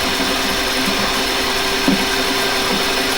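A mini lathe runs steadily at a slightly reduced speed, giving a continuous loud mechanical whir and gear hum with faint rattling and a single small knock partway through.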